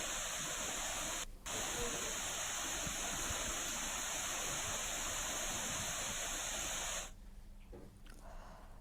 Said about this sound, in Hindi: तस्वीरों में आप देख सकते हैं कि जोगीधारा में पानी कितना तेज हो गया है।